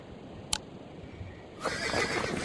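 A horse in a western video game lets out a short neigh, followed by a rush of broad noise and movement.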